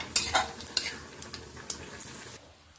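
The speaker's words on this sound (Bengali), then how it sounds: "তেল গরম করেই একটি শুকনো লঙ্কা ও একটুখানি মৌরি ফোড়ন দিয়ে নিচ্ছি।" A dried red chili and fennel seeds frying in hot oil, a soft sizzle punctuated by several sharp spatula clinks and scrapes against the pan, close and fairly quiet, fading toward the end.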